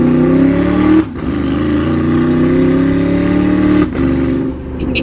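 A Porsche Panamera Turbo with a side exhaust revs hard on downshifts, loud and close. A sustained engine drone is broken by two sharp dips as the revs fall and climb again.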